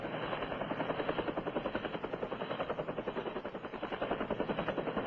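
A Bell AH-1 Cobra attack helicopter, a steady rapid rotor thump with a dense, throbbing drone held throughout, fairly faint and without voices.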